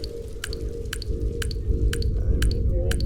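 Wet dripping footsteps in a Unity horror game, a steady run of about six squelchy steps with sharp drip accents, close and loud over a dense low rumble of background sound.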